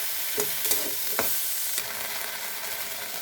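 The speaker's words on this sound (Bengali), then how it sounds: "লবণ দিয়ে আমি একটু সাঁতলিয়ে নিয়েছি।" Spices with turmeric, cumin paste and ginger paste frying in a pan for a Bengali greens curry, a steady broadband sizzle with a few sharp scrape-like clicks from stirring early on, continuous and close with no talking.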